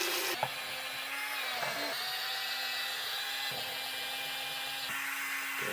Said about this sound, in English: now we're going to use the large brush head for cleaning the sink